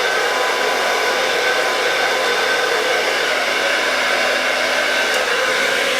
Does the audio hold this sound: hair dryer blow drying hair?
yes